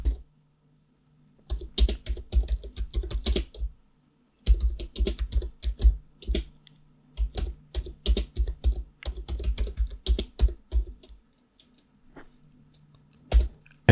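Bursts of fast typing on a computer keyboard, entering Linux update and upgrade commands at a terminal, close and crisp, with short pauses between runs of keystrokes and no talk.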